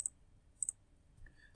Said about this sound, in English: clicking on all my different parts